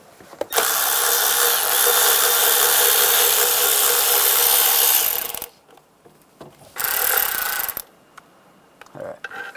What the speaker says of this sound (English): You got to take those two bolts out. You're going to use a 10mm socket.